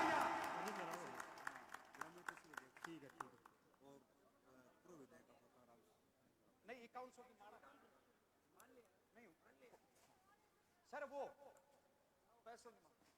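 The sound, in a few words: crowd applause at a political rally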